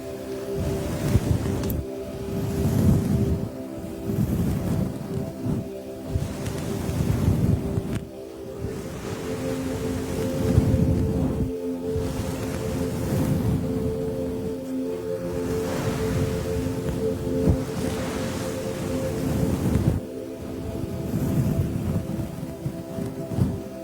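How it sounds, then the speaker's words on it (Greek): Sea waves surge and recede in repeated swells under wind-like broadband noise, a continuous loud wash with rhythmic rises every few seconds. "Μοιάζει με ήχο θάλασσας."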